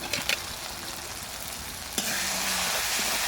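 Spiced masala with tomato and ground coriander frying in oil in a pan, with a steady close sizzle and a few stirring scrapes.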